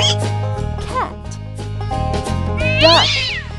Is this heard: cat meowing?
yes